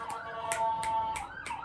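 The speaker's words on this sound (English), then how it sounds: "The ambulance, yeah." An ambulance siren wails from a distance, a steady rising and falling tone that is faint but continuous for the whole stretch, with no talk over it.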